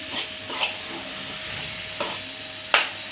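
Potatoes being stir-fried in a pan for a dry potato side dish, heard as a steady sizzle with a few sharp scrapes and clicks of a spatula against the pan.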